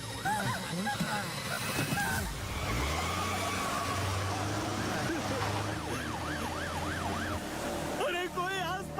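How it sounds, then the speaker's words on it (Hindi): A car's engine hums low and steady, partly masked by wailing emergency sirens and other dramatic noise in a busy film scene. "चला गाड़ी।"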